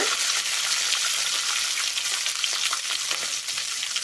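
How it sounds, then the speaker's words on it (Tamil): Onions sautéing in hot oil in a pan, a steady, close, even sizzle with faint stirring ticks throughout, no voices. "வெங்காயம் போட்டு நல்லா வதக்கிக்கோங்க"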